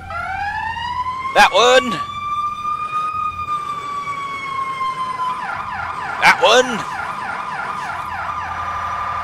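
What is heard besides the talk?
emergency vehicle siren horns in EmergeNYC video game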